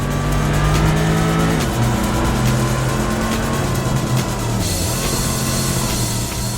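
Race cars in Import Tuner Challenge, including a white Mitsubishi Lancer Evolution CT9A, in an SP race: a loud, close engine drone that rises and shifts through gear changes, with other cars' engines layered around it and no voices.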